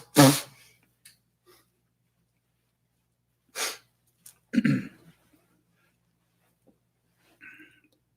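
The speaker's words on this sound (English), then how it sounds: "So I think I'll blow my nose again." A person blows their nose during a meditation talk, several short honking bursts spaced out over a quiet room with pauses and faint breathing between, no speech.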